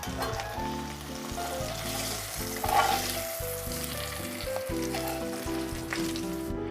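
Small salted klotok fish fry in a pan, a close, steady crackling sizzle with occasional stirring, no voices.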